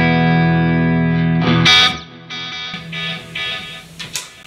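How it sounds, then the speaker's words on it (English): Electric guitar through an Alta100 amp on channel 2 in vintage voicing with light reverb in the effects loop: a loud sustained chord ringing out, then a few shorter strummed chords and stabs, played alone. "This is channel 2, straight up in vintage voicing, and just a little bit of reverb in the effects loop here."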